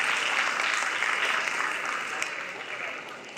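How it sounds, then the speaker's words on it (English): Audience clapping steadily for students at a school celebration day held at a convent senior secondary school, a dense, sustained wash of applause that slowly tapers off toward the end. "I request all of you give a one thunderous clap for our 8th-D class students"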